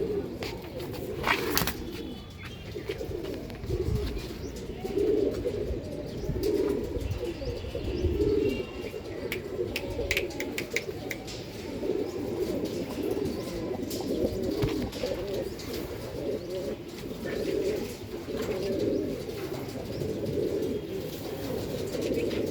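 Punjabi pigeons from a Mangalwedha loft coo steadily in low, rolling calls, several birds overlapping throughout with occasional faint chirps and a brief wing flutter.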